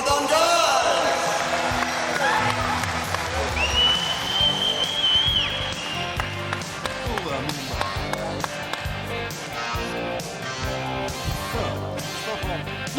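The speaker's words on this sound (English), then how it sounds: "So give them a big round of applause." Audience applause and crowd noise at a tatami martial-arts fight night, steady and dense throughout with whistle-like tones and scattered taps, a voice talking over it.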